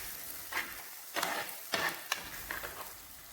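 Masala paste with curry leaves fries in a pan for sardine curry, a soft, continuous sizzle with louder hissing swells as the paste is stirred.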